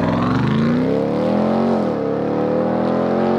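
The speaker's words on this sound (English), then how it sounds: "Here we go with the turbo." A Dodge Ram TRX's engine revs hard under turbo acceleration, a loud, close, rising-and-falling roar with strong harmonic tones, sustained throughout with no talk over it.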